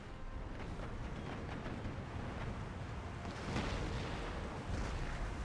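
Warships fire cannons at an enemy vessel in an Empire Total War naval battle, a continuous roar of booming broadsides blending into a windy, rumbling wash with louder surges toward the end.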